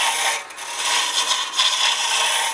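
A Crown Revolution Super Ring hollowing tool peels wood fibres on a lathe, giving a continuous bright, hissing scrape that swells and dips in short pulses, close and loud with no talk.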